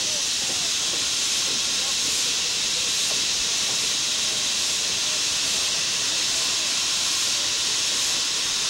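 A steam logging train on the Cass Scenic Railroad switchback gives off a steady, continuous hiss of escaping steam, heard at moderate distance with a faint voice underneath.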